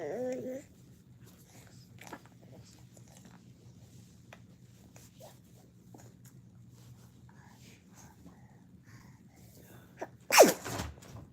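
One sharp, loud sneeze bursts out near the end, after a quiet stretch of faint rustling and small handling sounds, with brief murmured voices early on.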